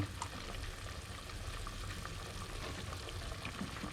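Pork belly curry with eggplant frying and stirring in a pan, a steady dense sizzle with soft crackles and occasional stirring scrapes throughout.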